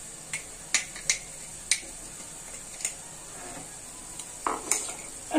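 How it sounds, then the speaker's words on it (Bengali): Spice paste being fried and stirred in a pan for a home-cooked Bengali dish, with soft sizzling under scattered sharp clicks and scrapes of a utensil against the pan. "মশলাটি ভালো মতো একটু কষাই নেব।"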